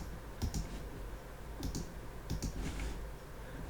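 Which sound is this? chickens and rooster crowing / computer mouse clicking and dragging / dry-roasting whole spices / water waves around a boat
computer mouse clicking and dragging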